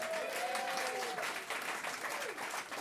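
Applause from a crowd at a live show for a new young band, a steady wash of many hands clapping, fairly distant and soft, with a voice faintly over it at the start.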